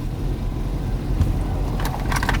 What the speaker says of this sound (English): First time driving a Porsche, guys.